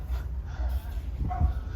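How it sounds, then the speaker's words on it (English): Dogs bark and yip nearby outdoors during work on a Lexus IS250/350 rear bumper, several short irregular woofs and whimpers over a low background rumble. "Dogs fucking barking."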